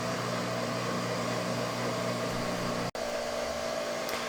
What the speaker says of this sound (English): Alright, so the microwave just beeped,